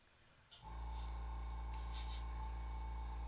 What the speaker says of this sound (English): I'm about to try Tim's custom airbrush